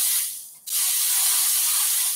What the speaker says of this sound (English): I am spraying it onto my cast iron before I cook with this.